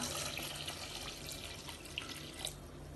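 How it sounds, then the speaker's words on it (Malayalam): Water poured into a pot of chicken biryani, a steady close stream and splash that runs through the whole moment, alone with no talk. "ഞാനിവിടെ വെള്ളം എടുത്ത് വെച്ചിട്ടുണ്ട് ഇതിലേക്ക് ഒഴിക്കാം"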